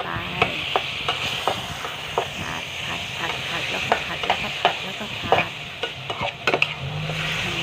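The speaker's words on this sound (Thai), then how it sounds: "ผัดไปเรื่อย ๆ" Pasta stir-fried in a pan, a continuous sizzle under a quick, irregular series of close spatula scrapes and taps against the metal, repeating for several seconds.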